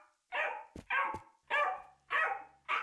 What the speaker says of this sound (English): I have not seen or heard a dog in this game that entire time.